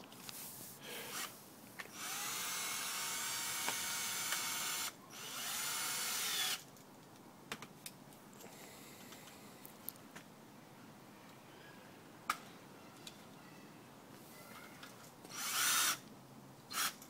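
Electric motors spinning up in several quiet, whining bursts of a few seconds each, with faint clicks and handling noises in the gaps between.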